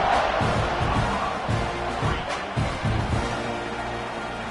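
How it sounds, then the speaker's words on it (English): Football stadium crowd buzzing after a touchdown, a dense, steady roar of many voices with a few louder swells. "this crowd is buzzing after that last score"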